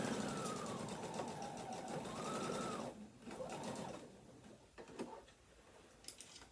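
Sewing machine running a fast, steady stitch along a tote bag seam, close and even, stopping after about three seconds, followed by a few sharp mechanical clicks and handling sounds.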